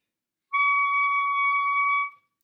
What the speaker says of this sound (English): that means that you're probably biting the reed just a little bit too hard